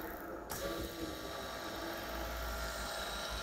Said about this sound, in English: Now you can see that motor is working in anti-clockwise direction.